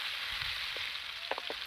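Wet fenugreek seeds dropped into hot oil for a tempering sizzle with a steady bright hiss, broken by a few faint pops and crackles near the end, with no one talking.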